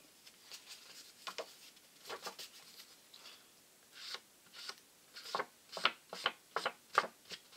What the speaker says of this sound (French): Du coup, j'ouvre ma base de cartes rose.